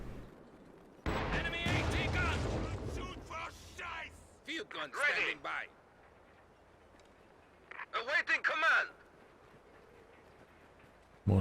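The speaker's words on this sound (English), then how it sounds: "Mortar getting up close" Mortar fire in the Company of Heroes 2 video game: a few separate, sharp explosive blasts with ringing tails, spaced apart, with quieter gaps between them and a voice talking in the background.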